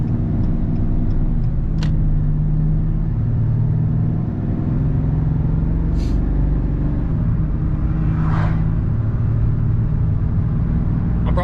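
A 2020 Ram 3500 HO dually pickup accelerates hard while towing a Cat D3 dozer, a loud steady diesel rumble and road roar with a few brief higher clicks and hisses.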